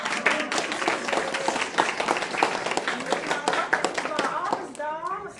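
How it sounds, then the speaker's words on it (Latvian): An audience applauds two cellists at a brooch exhibition gathering, brisk clapping under ongoing chatter, with a few louder individual claps and nearby voices talking over it. "Aplausi čellisti!"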